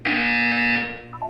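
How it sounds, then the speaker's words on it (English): A loud, steady electronic buzzer from the Portal 2 video game sounds once with a harsh, tonal drone for about a second, then cuts off with a brief electronic blip. "You will hear a buzzer."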